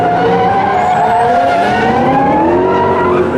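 A Nissan and a BMW M5 drifting on a track at the Lux Expo show in 2013, loud sustained engine roar with rising pitch and tire squeal, continuous and close throughout.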